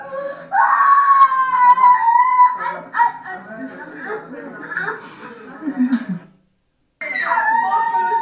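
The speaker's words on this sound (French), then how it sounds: "écoutez les cris" A crowd at a religious gathering cries out and wails to the Lord, loud and sustained vocal shouting that drops to a short silence before resuming.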